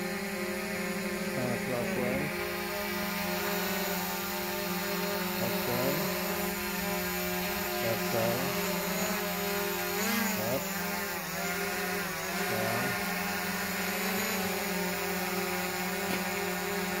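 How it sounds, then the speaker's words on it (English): A camera drone hovers close by, its propellers giving a steady, loud whine that holds its pitch with small wavering shifts, running without pause the whole time. "Now watch the drone."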